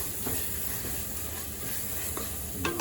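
Prawns frying with masala in a pan for biryani give a steady, soft sizzle and hiss, with a few faint stirring scrapes through it.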